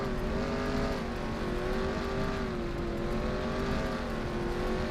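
A race car engine strains on a dirt track in a 2005 ARCA race, its note wavering and sagging as the car slides and loses grip, steady and loud throughout with no talk.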